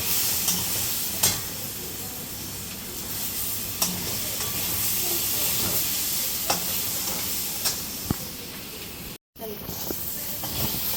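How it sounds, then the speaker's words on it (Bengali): Chili powder sautés on low heat in a pan for egg curry, a soft steady sizzle with periodic scraping stir strokes and a brief cut near the end. "দিয়ে আমি একটু কষাবো, কম আঁচেই কষাবো"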